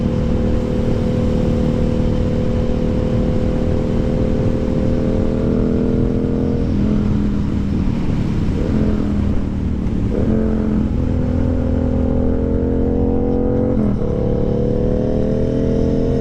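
A loud, continuous motorcycle engine drone with a low exhaust rumble fills the clip, rising and falling as the rider shifts and throttles.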